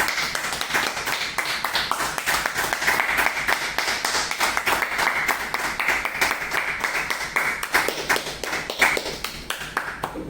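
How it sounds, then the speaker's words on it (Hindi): A group of people at a devotional spiritual gathering clapping hands together in a steady, even rhythm, loud and close, continuing for about ten seconds. "हम सब मिलकर जो है तालियां बजाकर अपने अपने भाग्य की सराहना करें"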